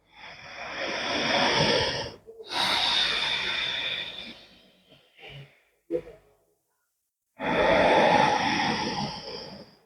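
Ujjayi pranayama breathing through the nose gives long, loud hissing breaths, several drawn-out strokes separated by brief quiet gaps, with softer short sniffs and a snort between them.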